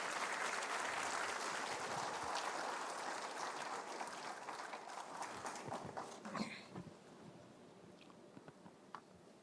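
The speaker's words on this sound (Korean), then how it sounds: "여러분 다시 한번 박수로 맞이해 주시기 바랍니다." Sustained applause from a ceremony audience at a national Science and ICT Day commemoration, fairly distant and steady before thinning into scattered claps near the end.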